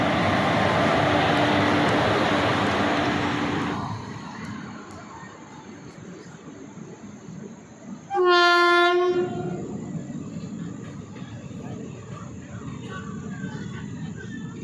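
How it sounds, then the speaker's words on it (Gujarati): A Veraval to Bhavnagar passenger train rumbles loudly past, its wagons roaring close by before fading. A single strong horn blast sounds partway through, and the rolling noise carries on afterward. "હાલો, છોકરાઓ ટ્રેન જોવે, ટ્રેનની મોજ માણે છે."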